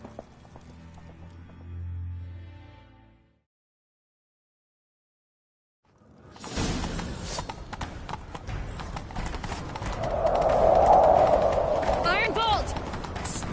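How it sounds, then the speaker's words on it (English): Rapid hoofbeats of a galloping horse in a video game, loud and close, following a brief stretch of other sound and a pause of silence. "Grab a horse, we'll chase him down."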